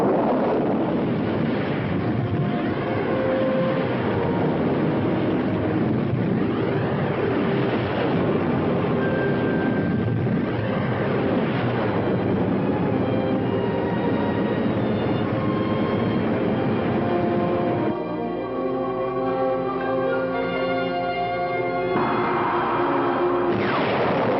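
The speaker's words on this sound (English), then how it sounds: "Engines at maximum speed." Spaceship engines running at maximum speed in a 1960 science-fiction film, a loud continuous roar with steady rumble and a layered tonal hum that shifts to a denser pulsing drone near the end, with no talking.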